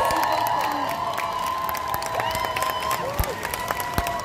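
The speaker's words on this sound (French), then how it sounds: "Levez-vous, faites du bruit, un tonnerre d'applaudissements pour Kate Love" A large crowd at a Paris fan festival Q&A with actress Kat Graham claps and cheers steadily, with whoops and high shouts rising through a dense, sustained wall of applause.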